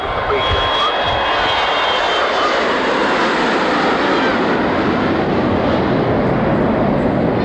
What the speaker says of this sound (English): Next aircraft taking off now, making considerably less fuss about it than the previous one.